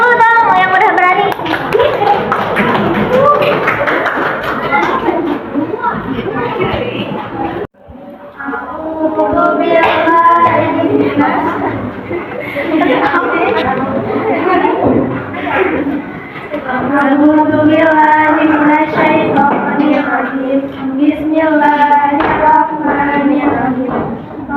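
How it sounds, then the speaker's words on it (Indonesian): Classroom applause from a junior Islamic school class in Indonesia, many hands clapping in a dense, sustained patter with children's voices and chatter mixed in, briefly pausing then continuing loudly. "Tepuk tangan dulu dong yang udah berani."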